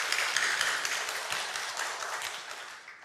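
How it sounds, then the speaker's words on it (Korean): A church congregation applauding its Sunday school teachers, a dense wash of many hands clapping together in a large room, slowly tapering off. "우리 박수로 한번 격려 한번 할까요?"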